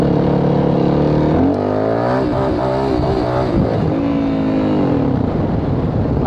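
A Yamaha WR450F dirt bike engine during wheelie practice drones loud and close, with the pitch rising and falling as the throttle is worked and then settling into a steady rumble.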